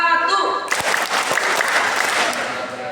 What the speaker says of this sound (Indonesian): Pak Ustadz kasih tepuk semangat yang baru, dengerin.